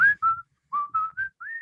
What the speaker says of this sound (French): par-dessus, il y a une petite toune sifflée